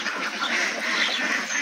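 Dense, continuous quacking from a flock of Jinding ducks on a duck farm at feeding time, many birds calling over one another close by, steady and loud throughout with no pauses.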